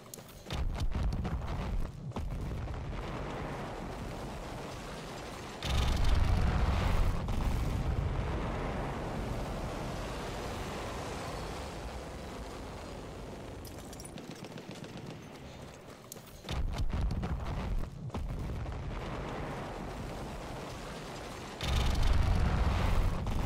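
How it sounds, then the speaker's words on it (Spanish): Large explosions in the video game Battlefield 1 on the Sinai desert map, several deep booming blasts that swell and fade into rumbling debris, each rising abruptly before tapering off. "quiero que se fijen en esta explosión que va a ocurrir en el mismo lugar en el mapa del desierto de Sinaí"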